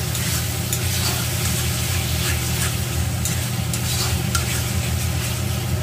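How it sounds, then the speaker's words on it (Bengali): Spice paste fries in hot oil in a pan for a tomato-based mrigal fish curry, with a loud continuous sizzle and occasional stirring scrapes, close and steady throughout. "এবার আমি পেস্ট করে রাখা যে মশলাটা আছে আমি সেটা দিয়ে দিচ্ছি। ভালো করে মশলাটা কষিয়ে নেব।"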